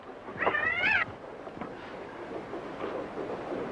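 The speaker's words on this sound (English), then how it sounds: "You hear that, Ben? That cat come all the way from Omaha" A cat gives one clear, close meow, followed by quiet background noise.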